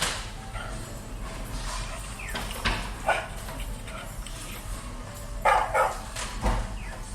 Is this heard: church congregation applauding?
no